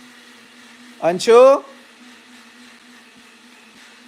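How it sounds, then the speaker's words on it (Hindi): A mixer grinder runs in another room as a faint, steady motor drone throughout, briefly covered by a person shouting loudly nearby. "मिक्सी चल रहा है"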